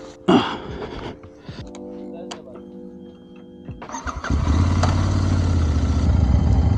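A Royal Enfield Interceptor 650 motorcycle is started up close with a brief starter whir, then its engine settles into a loud, steady idle rumble with a low throb. Someone talks briefly before it catches.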